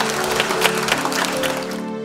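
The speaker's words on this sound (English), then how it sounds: "a big round of applause to our President" A large audience applauds the President of the Philippines at a science event, a dense, even clatter of clapping that stays loud throughout before easing off at the end.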